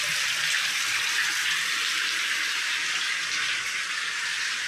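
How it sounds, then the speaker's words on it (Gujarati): Rainwater pours steadily into a tank at night, a continuous bright rushing and splashing flow that stays loud and even throughout with no voices. "આમ તમે જો હજી ચાલુ જ છે પાણી આવવાનું."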